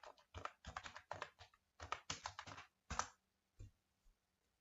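Computer keyboard keys typed in quick bursts of close, crisp clicks while entering a Google search, with short pauses between bursts and a few isolated keystrokes at the end, no talking.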